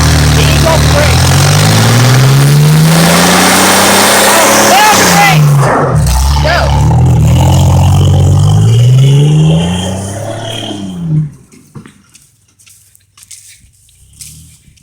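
A truck engine revs hard during a burnout, giving a loud sustained roar with rising and falling pitch for about ten seconds before it cuts back to quieter rattles and knocks.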